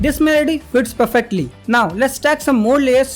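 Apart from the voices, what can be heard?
No distinct noise like a dog, phone or traffic.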